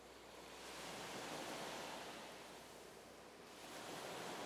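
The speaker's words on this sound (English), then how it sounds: "I accidentally added in this nature sound effect of the ocean." Ocean surf sample used as a nature sound effect in a song intro: a soft, continuous wash of waves swelling and receding twice, heard alone and fairly quiet.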